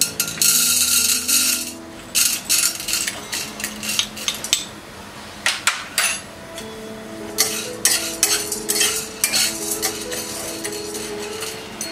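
Chana dal is dry roasted in a pan, its grains rattling and scraping under a metal spatula in repeated bursts of clattering stirs with brief pauses, close and fairly loud.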